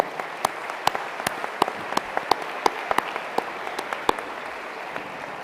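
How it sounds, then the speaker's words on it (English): Audience applause for award winners at an international astronautical congress in a large hall, steady sustained clapping from a big crowd with scattered sharp individual claps standing out. "Please let's give all of these groups and individuals a warm round of applause."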